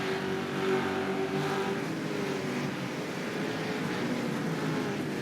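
Supercars race cars from the 2021 New Zealand season roar steadily down toward the first turn, a loud continuous engine drone with shifting pitch and no voices.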